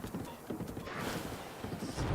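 Horse hooves clip-clop in Zelda: Breath of the Wild, a steady galloping patter close up under game ambience, with no talking.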